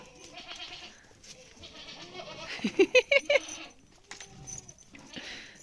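Young goats bleat in a short burst of several quick, wavering cries near the middle, over a low murmur of background noise and faint voices.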